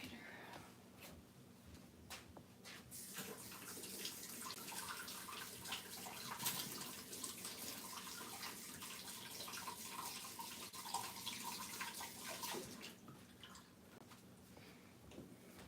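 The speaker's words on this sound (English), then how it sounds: "I ran it under water" A tap left running into a sink while an item is rinsed under the stream, a steady faint rush of water with splashes and drips throughout, heard from close by.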